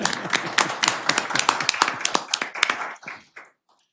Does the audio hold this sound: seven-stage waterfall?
no